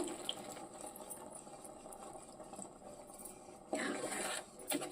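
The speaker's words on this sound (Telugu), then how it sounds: "పులుసు పోసేసుకుందామండి." Tamarind water poured into simmering tomato dal in a pot, a steady soft liquid rush and rasp running throughout, with a louder splashing burst near the end.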